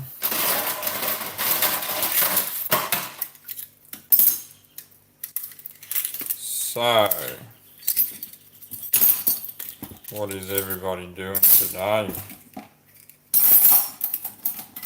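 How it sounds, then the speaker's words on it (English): Dishes being washed, with cutlery and pots clinking and clattering in a busy burst near the start and in scattered knocks later, under a voice talking through most of it. "I am washing dishes."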